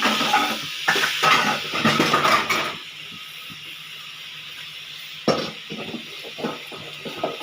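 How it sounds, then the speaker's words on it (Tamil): Tomatoes sauté in a hot pan for tomato pachadi, starting as a loud dense sizzle with spatula scraping and clinks for about three seconds, then settling into a quieter crackle broken by occasional stirring knocks. "இந்த ஸ்டேஜில் இப்போ நம்ம தக்காளி போட்டுக்கலாம். நல்லா வதங்கட்டும் தக்காளி."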